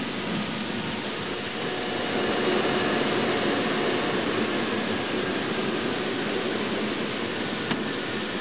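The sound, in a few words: airplane engine towing a glider into the sky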